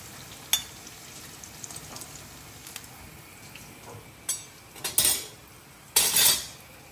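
Food fries in two pans, with a soft, steady sizzle underneath and metal utensils scraping and clinking against the pans in several louder bursts toward the end, without any voices.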